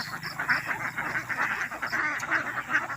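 Domestic ducks quack continuously beside a rice paddy shortly before harvest, a dense overlapping chorus of nasal calls close by with steady background noise.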